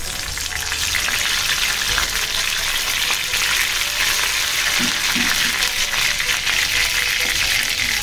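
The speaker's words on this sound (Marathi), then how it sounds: "तेल चांगलं तापलंय, कढीपत्ता टाकायचा." Curry leaves crackle and sizzle in well-heated oil for a Malvani prawn and raw mango curry, a loud continuous frying hiss close up, with no talk.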